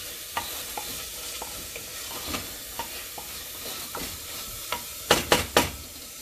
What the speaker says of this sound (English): now just let the masala cook with the onions and tomatoes just for another 2 or 3 minutes